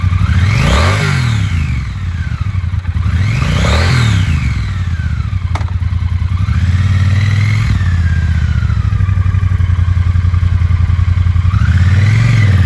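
A used 2022 Triumph Bonneville T120 with a 1200cc engine revs loudly and close up in repeated rising-and-falling bursts, then settles into a steady, strong run near the end.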